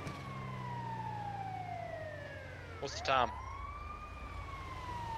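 An ambulance siren in the video game GTA V wails steadily with a slowly sliding pitch, loud and continuous throughout, while someone speaks briefly over it.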